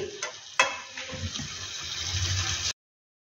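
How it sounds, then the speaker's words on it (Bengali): Spices for a red meat curry sautéing in a kadai, a steady close sizzle and frying crackle with a couple of sharp spatula knocks near the start, running continuously before cutting off abruptly. "ভালোভাবে মশলাগুলোকে কষানো যাবে, তাই আমি এই কড়াটা ব্যবহার করেছি।"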